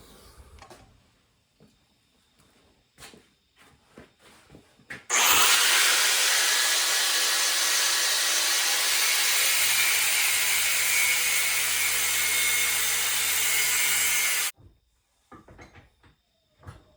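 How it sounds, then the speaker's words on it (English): An angle grinder cuts down a steel Allen wrench during base gasket work on a Sportster 1200, a loud steady high-pitched whine lasting about ten seconds, with clanks and handling noises before and after. "So I got to cut that down with a grinder"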